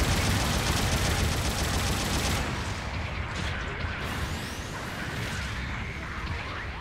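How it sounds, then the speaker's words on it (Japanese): Support artillery bombardment in the video game Gundam Battle Operation 2, a continuous loud roar of distant shelling and rumbling impacts that thins slightly partway through, with faint whooshes overhead. "味方が後方部隊からの砲撃が始まった。"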